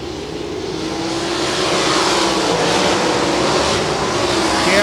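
Sprint cars roar around the dirt oval at Benton County Speedway during a Sprint Invaders race, a loud continuous engine drone that swells steadily as the pack passes close by.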